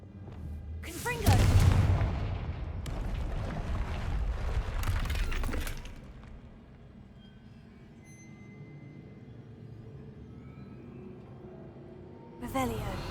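A Confringo fire-blast spell cast in the Hogwarts Legacy game bursts out as a loud booming blast with crackling, rumbling tail lasting several seconds, then fades to a low ambient hum before another sharp burst near the end.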